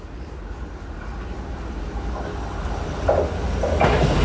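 A ten-car silver-green EMU900 electric multiple unit express on the North-Link line passing through a station in Taiwan, a steady loud rolling rumble of wheels on rails building toward the end, with faint rhythmic clacks.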